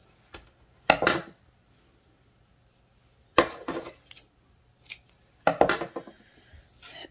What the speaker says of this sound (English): Cut a whole bunch of 5-inch pieces.